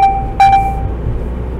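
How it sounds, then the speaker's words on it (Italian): A Fiat Tipo SW's traffic sign recognition alert sounds inside the car as a short two-note electronic chime repeated twice, clear and close over faint road noise. "questo suono che sentite è per quanto riguarda la segnaletica stradale"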